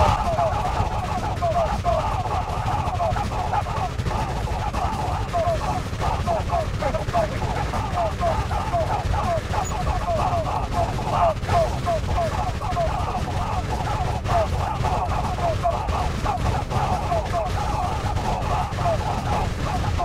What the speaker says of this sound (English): Firing salvo!